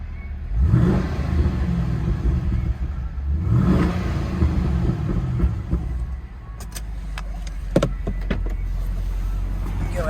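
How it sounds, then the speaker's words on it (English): A 2017 Chevy SS / Holden Commodore engine is revved twice from idle, each rev rising and falling loudly before settling back to a steady rumble, with a few clicks afterward. "let me give you some revs"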